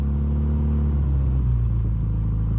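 An Austin Healey Sprite Mk 1 exhaust revs with a steady, loud, close low rumble that swells slightly as the engine climbs, with no talking over it.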